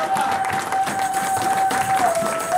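A church congregation breaks into applause, a steady wash of many hands clapping with crowd noise throughout, while a sustained tone holds underneath.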